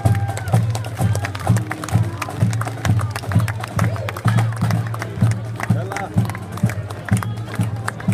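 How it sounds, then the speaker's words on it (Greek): A crowd at a Greek Independence Day parade in Boston claps in scattered bursts, mixed with rhythmic footsteps of marchers passing by and crowd noise outdoors, with a voice speaking over it. "Ένα θερμό χειροκρότημα για την κοινότητα του Weston."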